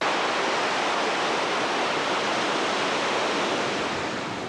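A waterfall on the Kokoda Track, heard as a steady, dense broadband rush of falling water that holds even and loud for the whole stretch, with no voices over it.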